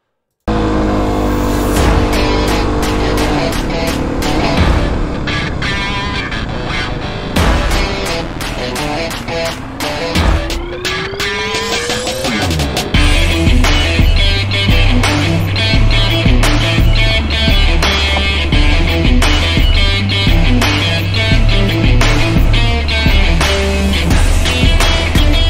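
Kawasaki KLX250 dual sport dirt bike ridden on an off-highway trail, its engine droning steadily and loud throughout with rising and falling revs, rougher and louder in the second half, no talking.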